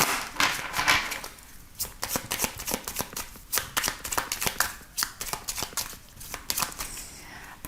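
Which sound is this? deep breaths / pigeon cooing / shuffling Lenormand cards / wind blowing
shuffling Lenormand cards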